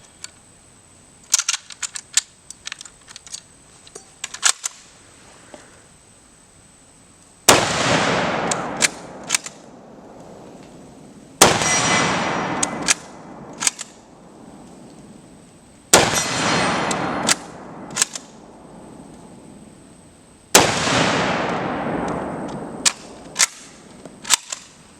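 A Chinese Type 53 Mosin Nagant carbine fires several rounds outdoors, each sharp, loud crack followed by a long ringing decay, spaced a few seconds apart, with metallic bolt clicks between shots.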